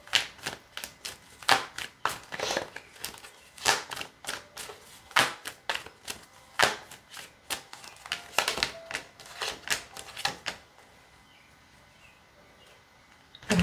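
Tarot cards shuffled in irregular bursts of crisp riffles and taps, close and quiet, stopping near the end.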